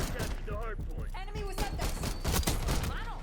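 Rapid pistol fire in the Black Ops 6 video game, a fast burst of loud sharp shots crackling over game effects and a talking voice.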